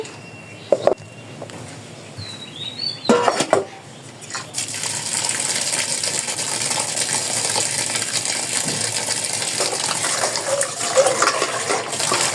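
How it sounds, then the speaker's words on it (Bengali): Cabbage is washed under a running kitchen tap; after a few clinks and handling knocks, a steady loud splash of flowing water takes over and continues to the end. "বাঁধাকপি এখন আর কি ধুয়ে নেব"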